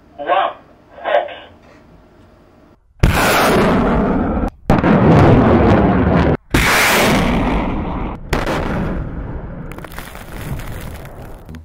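A GLSDB ground-launched rocket by Boeing and Saab fires on a test range with a sudden, loud, sustained roar and blast that carries on for several seconds, broken by brief cuts, after faint voices at the start.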